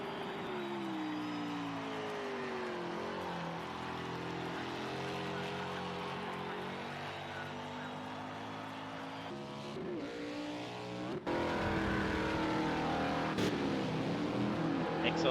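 Mustang Boss 302R race cars at Dubai Autodrome in a racing video game, with a sustained engine whine shifting pitch through gear changes, then a louder, rougher burst of revving near the end, under commentary.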